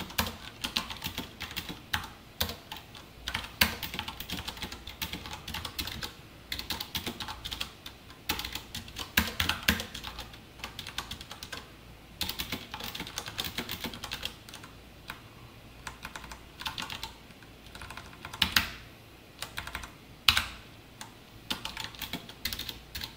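Steady computer-keyboard typing while code for a multiplication table is entered, with fast irregular clusters of close key clicks and brief pauses between bursts, no talking.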